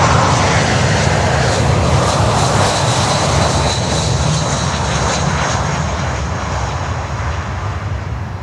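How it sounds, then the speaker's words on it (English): A Canada Charters airliner inbound from Holguin on approach to Miami airport, its engines roaring loud and steady throughout with a broad rushing drone that eases slightly toward the end. "Canada Charters from Holguin on approach."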